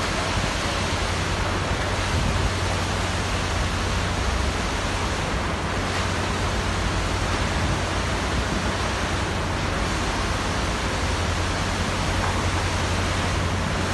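Steady broadband rush of water gushing from rock at a deep underpass excavation site in Buraydah, continuous and fairly loud with no pauses, resembling a waterfall or surf.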